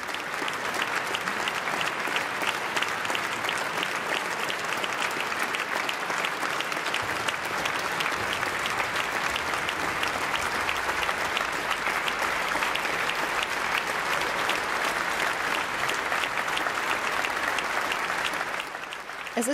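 A concert audience at the opening concert of the MDR Music Summer 2019 applauds the soloist, conductor and MDR Symphony Orchestra. The hall-wide clapping is dense and steady, continuing without a break for the whole stretch and fading only at the very end.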